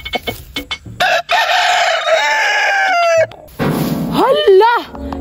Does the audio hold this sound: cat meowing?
no